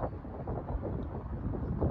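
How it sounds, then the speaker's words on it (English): Gusty wind buffets the microphone with a low, uneven rumble at an open park in Albuquerque, New Mexico, under cloudy skies, steady throughout and fairly faint. "It's kind of cloudy and windy right here"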